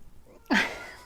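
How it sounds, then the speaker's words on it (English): A house cat gives a single short, sharp meow or yowl in a quiet room, brief and fairly close, with no talking around it. "My cat's having a conniption"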